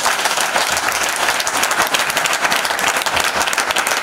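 A church congregation bursts into loud, sustained applause, dense overlapping clapping from many hands continuing evenly throughout.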